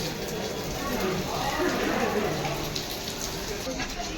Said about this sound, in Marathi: नुसता पाऊस